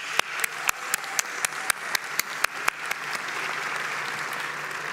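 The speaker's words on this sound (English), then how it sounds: "please join me in one more round of applause?" Scattered, sharp claps ring out one by one at first, then blend into a steady wash of applause from a graduation ceremony crowd, moderately distant.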